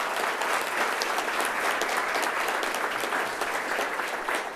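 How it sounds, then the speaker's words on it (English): An audience at a city council candidates forum gives a sustained round of applause, a dense, even wash of clapping with no break. "Let's give everyone a round of applause"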